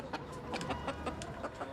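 Domestic chickens clucking close by in a coop high above New York City, a quick run of short soft clucks with no talk.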